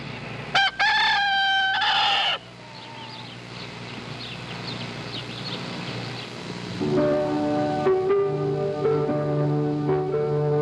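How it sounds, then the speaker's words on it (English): A rooster in the Lancaster County, Pennsylvania countryside crows loudly and close up twice at the start, then background birdsong follows, and a steady tonal hum rises toward the end. "That's a Lancaster County, Pennsylvania rooster and some of the countryside there."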